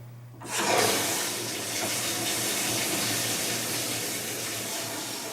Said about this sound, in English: So I'm going to turn on the cold water.